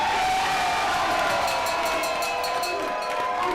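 A stadium crowd roars for the U.S. soccer team, a loud, continuous wall of cheering and shouting with a sustained whistle or horn tone riding over the noise.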